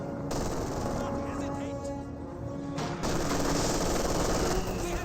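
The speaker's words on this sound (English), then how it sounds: "Pushes down so the MG42 can fire away with impunity for the most part" An MG42 machine gun fires in a Company of Heroes 2 battle as a dense, continuous stream of gunfire with layered battlefield noise and a burst of added shots near the end.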